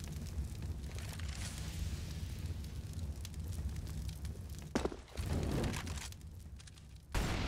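A molotov fire burns during a Counter-Strike match on Mirage, with a steady roaring crackle under game noise and a couple of sharp bangs breaking through near the end.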